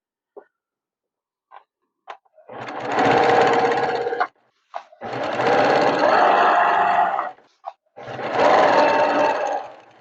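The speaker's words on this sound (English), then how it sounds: "So I'm going to keep sewing these and adding them until I have my strips." A sewing machine stitches patchwork fabric strips in three loud, close bursts of rapid whirring, each lasting a couple of seconds, separated by short pauses with light clicks and handling noises.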